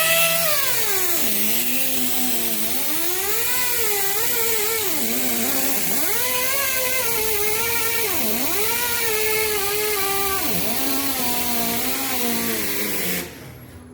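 A tire shop power tool shaves the inner surface of a leaky tire, a loud continuous whine that repeatedly dips and rises in pitch as the load changes, cutting off abruptly near the end.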